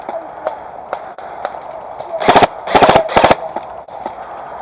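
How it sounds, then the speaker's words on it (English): Airsoft guns fire in a combat game, a few scattered single shots followed by three tight bursts of rapid cracks around the middle, fairly close, with faint voices and outdoor background. "Shots on the right."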